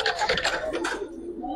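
Giribaz pigeons coo in a short, fairly close burst of soft throaty calls, with a faint murmur of a human voice underneath.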